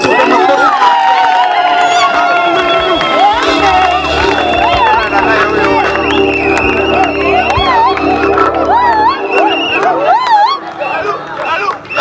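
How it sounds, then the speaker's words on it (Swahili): A church congregation at an outdoor mission gathering cheers, shouts and claps for Jesus, a loud, dense wall of excited voices and ululation throughout that eases slightly near the end. "unaweza ukamshangilia Yesu kwa makofi"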